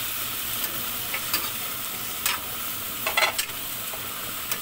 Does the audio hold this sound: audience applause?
no